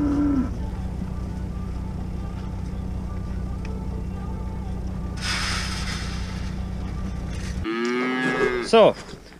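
Dairy cattle being brought home moo over a steady low vehicle drone, one short call at the start and a louder, closer moo near the end.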